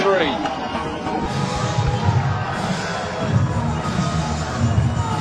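A crowd cheers and shouts loudly at a basketball game in a busy arena, a constant roar with excited peaks and a few children's shouts mixed in.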